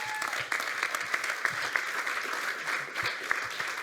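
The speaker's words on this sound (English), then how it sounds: "Clap it up for Selina." Audience applause for a speaker at a Berlin–Miami fintech leaders event, a dense steady wash of many hands clapping throughout with a few sharper claps standing out, no talk.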